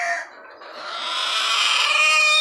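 Rooster and hens at a poultry farm that sells roosters and laying hens, clucking and calling in a steady, close chorus that swells over a couple of seconds, with no talk.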